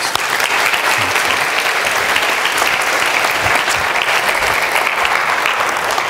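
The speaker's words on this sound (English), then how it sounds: "Would you show them a great round of applause?" Church congregation giving a big round of applause, dense and loud continuous clapping that stays even from start to finish, close to the listener.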